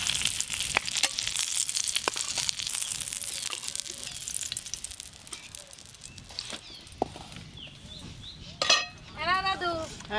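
Vegetables sizzling and frying in a pan while cooking rohu fish curry with big brinjals outdoors, a steady crackling hiss with utensil clinks and footsteps, close by, with a voice speaking briefly near the end.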